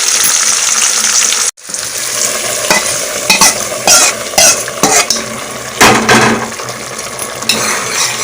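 Small shallots frying in a tempering of hot oil for a toor dal and ivy gourd kootu, a loud steady crackle and sizzle with repeated spoon scrapes and clinks against the pan.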